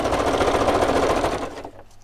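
A sewing machine stitching fabric runs in a loud, rapid mechanical chatter close by, then stops abruptly near the end, leaving quiet.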